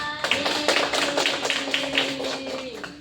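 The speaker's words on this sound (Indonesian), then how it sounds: "Kita kasih tepuk tangan untuk kelompok 2." A classroom group claps for a student team in a micro-teaching lesson, a thin, brief patter of hands repeating over a few seconds with a faint voice underneath.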